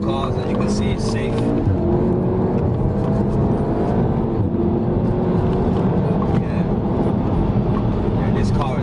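An Audi TT RS rated at 500 bhp, out on an open road, with its engine droning loud and close at a fairly steady pitch while people talk over it throughout.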